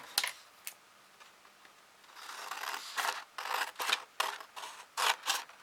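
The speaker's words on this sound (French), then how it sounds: "Cette partie-là, on n'en a pas besoin, on la coupe." Fabric being cut with scissors for a quilt block fold, a run of crisp snipping and rasping cuts, close and fairly quiet, coming in uneven bursts after a few isolated clicks.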